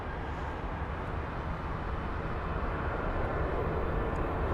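A 19-year-old Boeing 747 cargo jet from Singapore Cargo, arriving from Sharjah, approaches London Heathrow at sunset with a steady, broad engine roar that swells slightly, distant and unbroken by talk.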